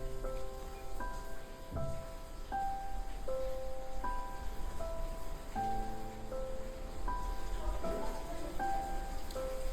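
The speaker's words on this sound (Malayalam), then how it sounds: "സോ രാവിലെ തന്നെ നല്ല മഴ." Steady morning rain falls beside a coffee plantation in Coorg, a continuous close hiss. Faint tonal notes drift over it throughout.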